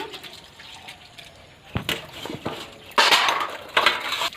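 Water splashes and trickles over dishes as soap is rinsed off by hand, with clinks of plates and utensils and a louder burst of running water toward the end, close up.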